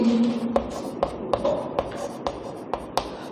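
Pen writing a maths solution on paper, with several short scratchy strokes and taps at a steady rhythm, close and clear, and a brief hum at the start.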